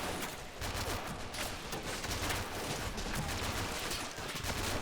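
Sustained volleys of gunfire in the Men of War strategy game, rifle and machine-gun bursts pouring onto a soldier defending a Japanese pagoda temple against a massive Soviet assault, dense and continuous with crackling impacts throughout.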